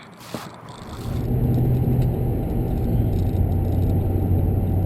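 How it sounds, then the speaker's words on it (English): A 1977 Dodge Adventurer D150 truck cruising down the freeway, its steady engine rumble and road noise filling the cab after a brief knock, holding a smooth even drone throughout. "I hope you like watching this drive down the freeway with this truck"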